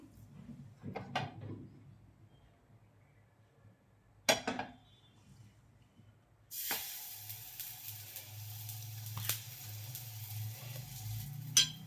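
Tikki patties are laid on a hot tawa griddle after a few quiet clinks and knocks, then a steady close sizzle starts abruptly and continues to the end, with occasional utensil taps.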